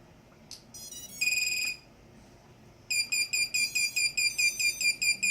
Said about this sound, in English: And then powered up, it's going to beep at me because I don't have my transmitter on.